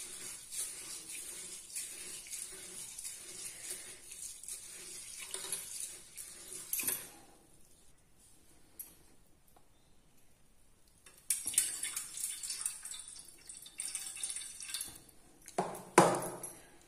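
Rice and urad dal are washed in water in a bowl, with swishing and pouring from a tap, a quiet pause in the middle, then renewed splashing and rinsing close by.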